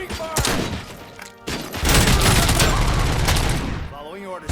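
Gunfire in the video game Robocop: Rogue City: loud, dense automatic bursts with heavy thumps, a brief pause, then a longer sustained volley, with robotic voice lines heard among the shots.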